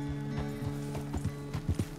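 A horse in the Red Dead Redemption 2 video game clip-clops at a walk, its hooves thudding in an uneven rhythm over a steady low hum, fairly close.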